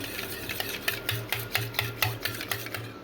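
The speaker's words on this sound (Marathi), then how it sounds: "छान असं पेटून घेऊ कारण की दही वड्याला दही हे पातळच लागतं" Thin curd being whisked with water and salt in a bowl for dahi vada, giving a steady run of rhythmic scraping strokes, close and moderately loud, with no voices.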